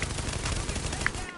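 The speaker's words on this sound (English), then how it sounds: "Shotgun." Rapid bursts of gunfire from The Division, a shotgun blasting amid a dense firefight, several overlapping reports packed tightly over a moment before cutting off abruptly.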